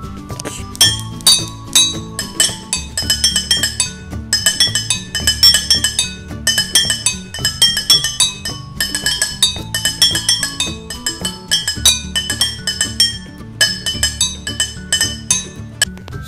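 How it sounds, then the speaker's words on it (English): Kitchen glasses clink over and over in a fast rhythmic pattern, bright ringing taps played like a percussion solo, loud and close with no talking. "cue kitchen glass solo"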